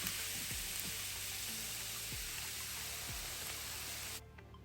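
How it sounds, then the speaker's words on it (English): Chopped garlic, eight to ten cloves, sizzles in a pot with a steady, soft hiss and a few faint knocks, fading out abruptly at the end. "Chop it up, add it to the pot, and bubblation takes place."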